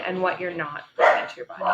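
Several dogs bark in short loud bursts in the middle of the clip, cutting across a woman's ongoing conversational speech before and after.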